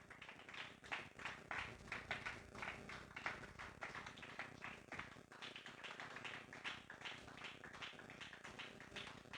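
A standing church congregation applauds for Jesus during a Sunday worship service, a dense, steady wash of many hands clapping with loose rhythm, sustained throughout at moderate distance.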